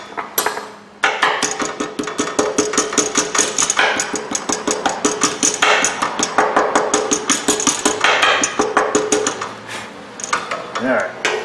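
A hammer rapidly taps rust off a vehicle's power steering return line, a dense run of sharp metallic knocks at a steady, fast rhythm, loud and close, after a brief quiet start.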